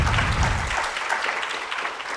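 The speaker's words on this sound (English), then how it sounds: "You've got some spontaneous applause in case you can't hear it" Audience at a philanthropy and wealth forum breaks into spontaneous applause for a panelist, a steady wash of many hands clapping at moderate loudness with a low thump early on.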